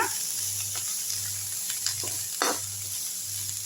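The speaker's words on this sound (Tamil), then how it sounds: "கேரட் போட்டுங்க, கீரையை போட்டுங்க. ஃப்ளேமை லைட்டாக கம்மி பண்ணிவிட்டு லேசாக வதக்கி விட்ருங்க." Carrots and spinach sautéing on a low flame, a close, continuous frying sizzle with a few soft stirring scrapes and a low repeating hum beneath.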